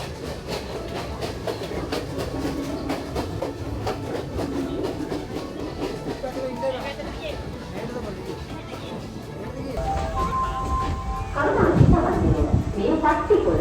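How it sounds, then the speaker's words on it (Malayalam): Sri Lankan passenger train hauled by two engines, rumbling and clattering steadily along the track, with rhythmic wheel noise that swells louder near the end and voices talking over it. "2 എഞ്ചിൻ ഉപയോഗിച്ചാണ് ഈ ട്രെയിൻ ഓടുന്നത്"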